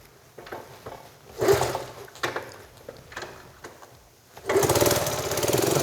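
A rebuilt, once-rotten Honda CT70 motorcycle is kick-started, giving several short mechanical bursts and sputters before the small engine catches and settles into a steady, close running drone.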